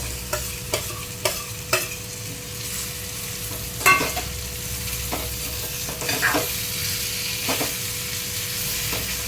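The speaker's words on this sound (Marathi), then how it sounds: "बटाटा चांगला खालीवर चांगला तेलात परतून घ्यायचा." Small diced boiled potatoes sautéing in oil over medium heat, a constant close sizzle broken by repeated clicks and scrapes of a spatula turning them in the pan.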